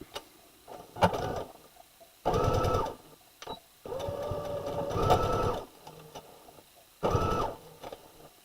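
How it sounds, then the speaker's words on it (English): Sewing machine stitching a bootie lining piece, several bursts of fast rhythmic mechanical whirring and ticking that start and stop, with quiet clicks and handling noises between runs, close and without speech. "See if we can get this stitched up."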